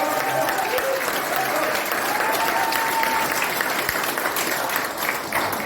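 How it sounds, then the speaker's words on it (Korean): Dense, steady audience applause fills a political rally for a Democratic Party Busan chapter chair candidacy declaration, loud and continuous throughout with no gaps. "박수 한번 칩시다."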